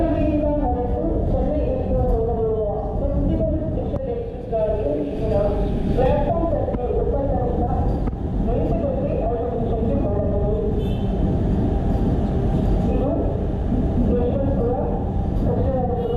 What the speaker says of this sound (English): another Chennai train from Mysuru, the Vande Bharat Express, arrived on platform 7